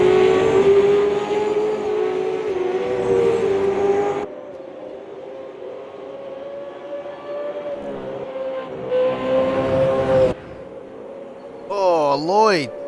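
Fish Racing's Red Bull Commodore V8 touring car roars at a street circuit in the Adelaide 500, loud and sustained with rising and falling engine pitch, a commentator talking over it and a sharp upshift sweep near the end.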